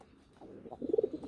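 Gola pigeons, a male among them, cooing close by in a short burst of low, throaty repeated coos that swell toward the end.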